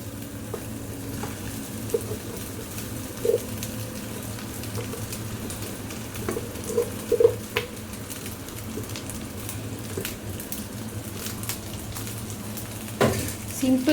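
Egg and rice fry and get stirred in a pan for crab stick fried rice, a soft steady sizzle with scattered scraping taps from the spatula, faint and close.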